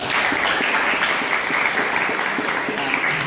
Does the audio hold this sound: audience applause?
yes